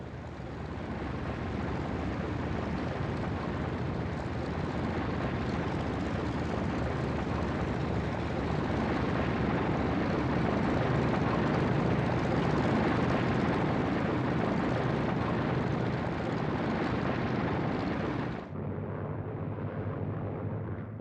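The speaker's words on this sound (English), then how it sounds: "it took almost 3 hours for LeMay's entire force of B-29s to get airborne" Second World War B-29 bombers on a night raid toward Tokyo make a continuous, heavy propeller-engine roar that holds steady and loud, then drops to a lower drone near the end.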